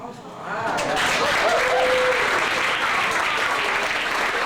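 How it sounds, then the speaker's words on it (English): An audience applauds steadily, building within the first half second and then holding dense and loud to the end, with a faint whistle or voice briefly rising above the clapping. "Let's give him a round of applause."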